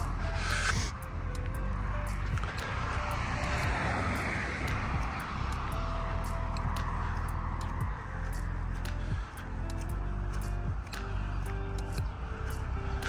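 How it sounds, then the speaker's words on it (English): Road traffic beside a countryside walk between Pirton, Shillington and Pegsdon makes a continuous broad roar that swells and fades as vehicles pass, moderately loud and unbroken. "If you don't like the sound of traffic,"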